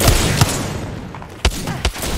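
Shots crack in a console shooter firefight: sharp individual reports at irregular intervals, one early and two more near the end, loud over a dense, steady wash of battle noise.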